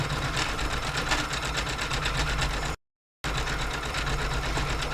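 A sewing machine runs steadily while stitching baubles, a loud, close, rapid mechanical rattle that cuts out to silence for a moment and then resumes at the same pace.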